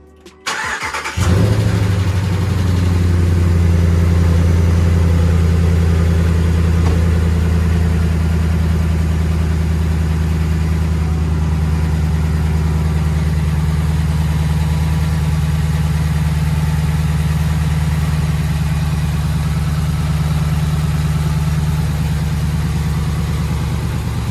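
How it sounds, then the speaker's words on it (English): A Ram RT truck engine fitted with a new K&N cold air intake cranks and catches, then settles into a steady, deep idle that runs evenly and loudly to the end. "now I'm gonna turn it on and see how it sounds"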